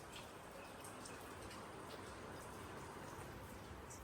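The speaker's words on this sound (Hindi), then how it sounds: "बारिश यार कंटिन्यू चालू है यहाँ पे।" Heavy rain pours steadily onto a rooftop as a dense, unbroken wash, with scattered drops tapping nearby.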